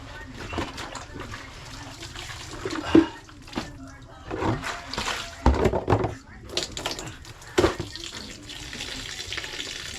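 Tap water runs and splashes into a basin for rinsing laundry outdoors in the morning, an uneven stream broken by sharper sloshes and bursts, with faint voices in the background.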